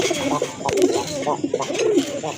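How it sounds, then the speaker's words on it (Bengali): White Jacobin pigeons coo in soft, repeated throaty bursts, close by and overlapping, with a faint background hum. "আরেক জোড়া কবুতর এটা হচ্ছে আপনার হোয়াইট জ্যাকোবিন"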